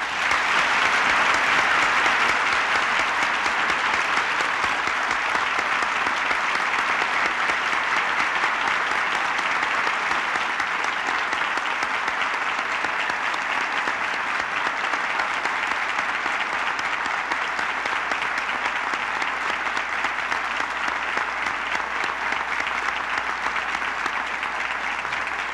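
Sustained, dense applause from a large audience at the National Prayer Breakfast in Washington, DC, loud and even from start to finish, with no voices over it.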